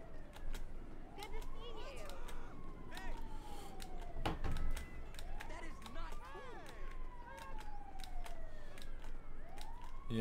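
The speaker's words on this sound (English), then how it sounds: "EMS sounds like it's on the way." A wailing ambulance siren in GTA 5 sweeps up and down repeatedly beneath ongoing talk and busy game sounds, fairly prominent in the mix.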